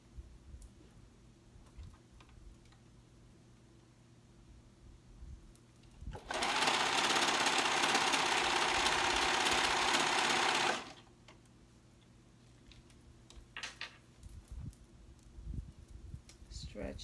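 A sewing machine runs in one close, steady burst of about four seconds while stitching a stretched neckband onto a bell flounce sleeve top, with quiet handling noises before and after.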